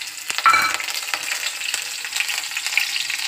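Chillies and fennel seeds fry in oil for homemade poha. The crackling sizzle flares right at the start, then settles into a steady, close-up hiss with light stirring for a few seconds.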